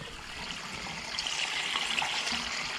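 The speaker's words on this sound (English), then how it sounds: "we're testing this line here by running water down in this drain" Water runs down a drain line during plumbing work, a faint steady rushing trickle with slight gurgling, fairly quiet and continuous.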